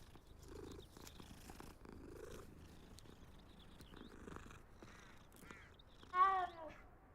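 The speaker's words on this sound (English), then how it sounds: "Pet the cat." A cat purrs while being petted in the Hogwarts Legacy video game, a soft rumbling purr with faint game ambience, ending in a brief louder meow-like call near the end.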